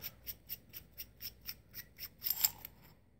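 The back cap of a black Tansoren 600-lumen aluminum tactical flashlight is unscrewed, giving a run of evenly spaced, crisp metallic clicks up close that bunch together and end in a brighter final click.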